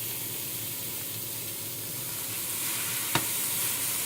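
Seasoned flank steaks laid seasoning-side down on a griddle hiss with a steady, even sizzle, interrupted once by a single sharp tap near the end.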